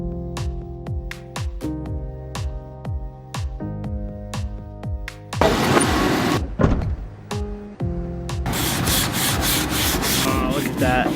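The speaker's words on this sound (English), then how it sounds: "You can kind of hear that guy shoveling his." Snow being shoveled outdoors during a snowstorm: repeated scraping strokes with sliding rasps and a few harder scrapes, fairly close and steady, with no talk.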